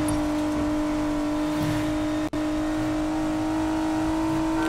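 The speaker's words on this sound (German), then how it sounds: "So, mal ein bisschen Gas geben hier." A car engine in the racing video game Need for Speed Payback holds a loud, steady drone with a brief dropout partway through, and no voices are heard.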